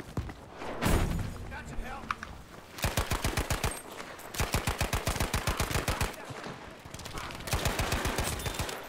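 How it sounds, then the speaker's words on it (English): Gunfire from a slow-firing weapon in the video game Battlefield V: several loud bursts of evenly spaced shots, each a steady string of sharp cracks, with short pauses between bursts and some game noise underneath. "Fuck, I hate this low rate of fire gun"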